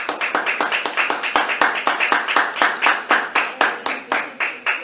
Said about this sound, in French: Aux applaudissements.